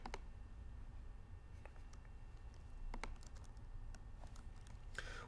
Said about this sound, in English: here we're going to type in the name of our server, just server.example.com